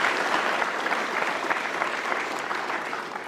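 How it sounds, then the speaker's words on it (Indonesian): An audience breaks into dense, steady applause for Kiai Haji Mustafa Bisri at a poetry gathering, a continuous wash of many hands clapping close and loud without a break for the full few seconds. "Sekali lagi tepuk tangan dong untuk Kiai Haji Mustafa Bisri."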